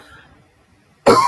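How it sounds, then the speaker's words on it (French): A single sharp, loud cough bursts out near the end after a quiet stretch of faint background. "Excusez-moi, je tousse."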